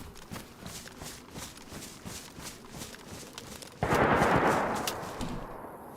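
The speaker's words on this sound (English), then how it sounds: "That sounds like a full auto" Full-auto gunfire in the survival video game DayZ on a U.S.-based map, a burst of rapid shots in the distance followed by a louder, dense roar of firing near the end, with no talking over it.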